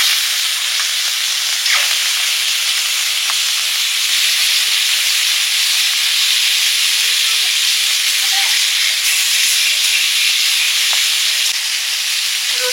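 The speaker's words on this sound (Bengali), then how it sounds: "এবার মাছগুলো ভেজে নিচ্ছি।" Fish frying in hot oil in a pan, after beans were fried, gives a steady, loud, dense sizzle and hiss that holds evenly throughout, with only faint crackles and no talk.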